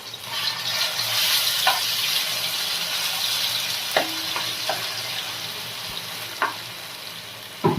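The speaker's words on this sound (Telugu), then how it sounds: "గ్రేవీలో ఉన్న ఉల్లిగడ్డ అల్లం వెల్లుల్లి పేస్ట్ జీలకర్ర మెంతులు పేస్ట్ ఉంది కదా దీన్ని ముందుగా కొంచెం వేయించుకోవాలి పచ్చివాసన పోయేదాకా" Onion, ginger and garlic paste with cumin and fenugreek paste fries for a fish curry gravy, giving a steady, close sizzle with occasional light clicks from stirring in the pan.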